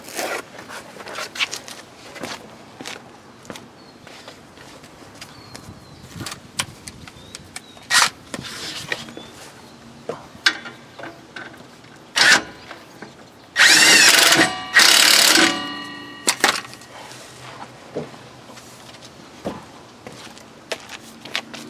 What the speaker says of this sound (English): now we're just going to go ahead and tighten up this bolt